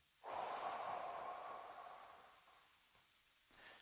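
A single long breath drawn out during a guided meditation: one close, soft, airy exhale that swells at the start and slowly fades over a few seconds, with no talking.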